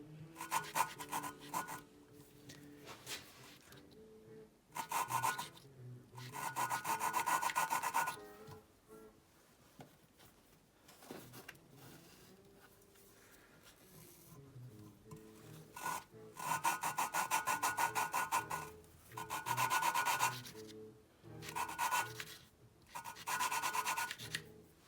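A suction cup tool twists an engine valve back and forth against its seat on a GM 151/153 engine. The lapping gives a gritty, rhythmic rubbing in alternating bursts separated by brief quiet gaps.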